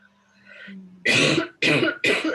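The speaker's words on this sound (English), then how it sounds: "Sorry to cough, guys." A faint low hum gives way to three harsh, close coughs in quick succession, each loud and abrupt.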